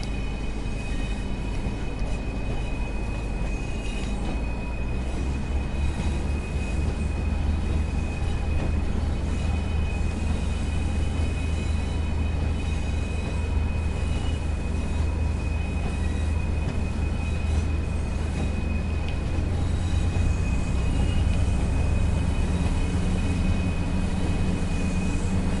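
A Pacer diesel multiple unit on the Tees Valley Line in Train Sim World 4 runs steadily throughout, with a continuous loud engine drone, rolling wheel rumble and a faint high whine, and no talk.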